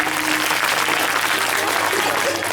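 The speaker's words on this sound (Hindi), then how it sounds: "एक बार अपने लिए ताली बजा लो" Audience at a Shrimad Bhagavat Katha religious gathering in Manegaon, Chhindwara, claps together in a dense, steady burst of applause that fills the room without pause.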